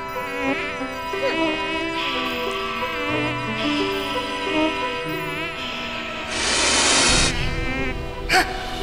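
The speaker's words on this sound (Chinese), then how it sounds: "蚊子没赶走" A mosquito whines in a thin, wavering drone, close and continuous, beneath a tonal musical score in a bedroom scene at night.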